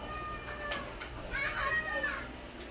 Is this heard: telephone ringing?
no